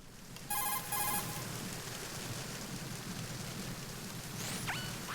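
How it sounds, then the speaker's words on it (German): An in-game telephone in Metal Gear Solid 2 rings with two short, bright electronic bursts near the start, heard over a steady bed of rain. "Telefon."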